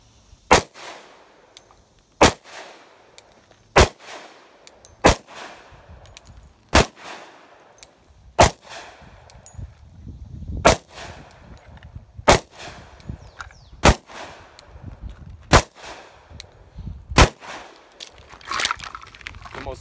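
A Glock 29 10mm pistol fired repeatedly at a range, loud sharp shots spaced roughly every one to two seconds, about a dozen in all, with handling noise between them.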